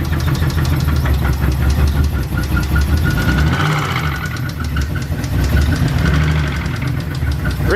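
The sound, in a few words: Infiniti G35 engine idling with valve tick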